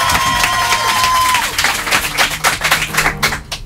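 A studio audience claps for a six-year-old child singer on a French radio show, loud close hand claps settling into a rhythmic beat, with voices and a sustained tone early on.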